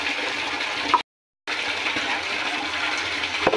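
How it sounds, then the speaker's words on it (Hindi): Water gushes and splashes steadily into a drum in a village setting, a continuous rushing pour broken by a brief gap of silence partway through. "पानी आ रहा है"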